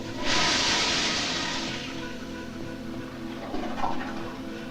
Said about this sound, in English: Now flush it.